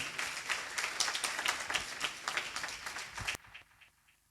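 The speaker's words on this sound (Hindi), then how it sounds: "ऑर्गन मास्टर और नाल मास्टर के लिए ताली बजाएंगे पहले।" A church congregation at a Friday prayer meeting clapping for the organ and nal drum players, a loud burst of many hands that stops abruptly and leaves a faint tail.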